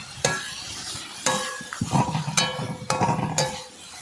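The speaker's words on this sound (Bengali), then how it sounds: "তো এবার সব মশলা দিয়ে দিচ্ছি, হলুদ, জিরে গুঁড়ো।" A spoon stirs and clinks in a pot as turmeric and cumin powder fry with cut tomatoes for a crab curry cooked on a boat in the Sundarbans. Sharp metallic taps cut through a steady close sizzle.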